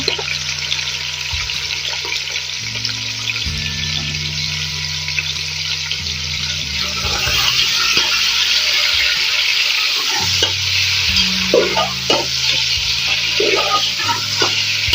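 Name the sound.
beef frying in leftover oil in a pan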